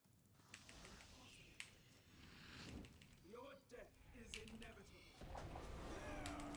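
A cat meows in the RuneScape video game, a short rising and falling call in the middle, mixed with computer keyboard clicks and steady background game noise.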